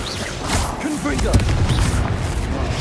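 A Confringo blasting spell explodes in the Hogwarts Legacy video game, a dense booming burst over a busy battle soundscape of spell effects and crackle, with a voice calling out nearby.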